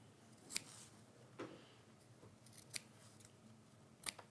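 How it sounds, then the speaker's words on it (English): Scissors snip off excess fabric on a cork and fabric journal cover, several crisp, close metallic cuts spaced irregularly over a quiet background, the last two in quick succession. "cut off any excess and then turn it through"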